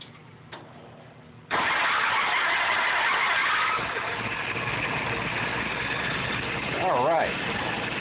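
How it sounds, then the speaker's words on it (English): A car engine fitted with a Carter WO 596S carburetor cranks briefly and catches on a warm restart, then settles into a loud, steady run with a brief rise near the end; a voice speaks over it. "We're going to go ahead and do that warm restart for you and stumble test."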